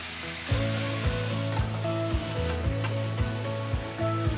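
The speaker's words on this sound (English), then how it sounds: "So meanwhile, the chicken will be frying as well." Chicken and garlic sizzle steadily in a hot pan for Georgian shkmeruli, a close, continuous crackle, with soft music playing in the background.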